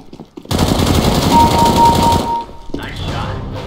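Rapid gunfire from a CS:GO match, a dense burst of shots lasting about two seconds, loud and close, followed by quieter game noise and movement.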